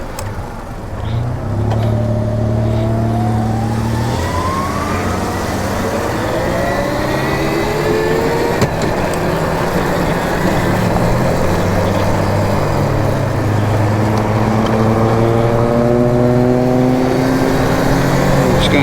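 A Velimotor VMX12 80-volt electric dirt bike rides along a busy city street in third gear, its motor whine rising and falling in pitch with loud wind and road rush, passing traffic around it, no speech.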